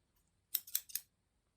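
Scissors cutting hair during an at-home bob haircut: three quick, crisp snips in close succession, close up and fairly quiet, with silence before and after.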